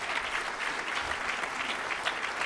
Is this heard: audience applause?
yes